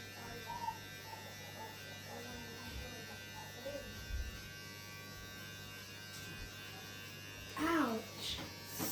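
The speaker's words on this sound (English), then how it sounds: "Can you not use that shaver?" An electric shaver buzzes steadily and fairly faintly while cutting a boy's hair at home, with a voice crying out over the hum near the end.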